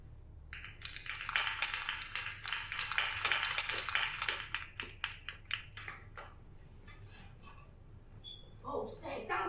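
Audience applause at a live show in Quebec, a dense burst of many hands clapping that swells, holds steady, then thins out into scattered claps, with a low hum underneath.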